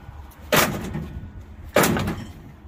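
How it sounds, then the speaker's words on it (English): A door is slammed twice in a row about a second apart while scrap is loaded at a YMCA gym. Each sharp, close bang is followed by a short rattling decay, with no talk over them. "Just slam the door on it."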